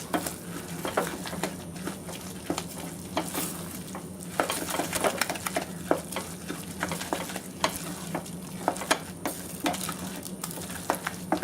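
Butter melts into risotto alla milanese in a hot pan, giving a steady close sizzle broken by frequent sharp clicks and scrapes of stirring against the pan, with no voices heard.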